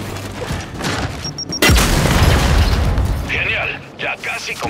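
Grenade detonating in Gears 5 training range: one loud, close boom with a deep low-end burst that rolls out and decays over about two seconds, followed by lighter game effects and faint voice.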